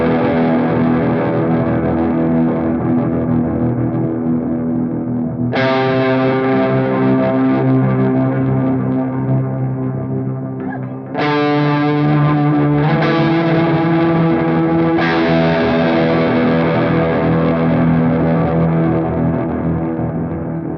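Walrus Audio Fable pedal's octave-down generator with drive on an electric guitar: sustained, thick, distorted single long notes with a pulsating low end, a few fresh attacks rising loud, no voices.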